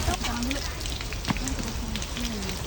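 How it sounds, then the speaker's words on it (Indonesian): Rain falls as a steady, dense hiss that fills the background, while people talk nearby over it. "Oh, hujan."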